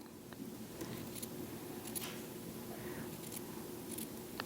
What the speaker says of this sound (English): I took a pair of scissors, and first of all I cut it right on the line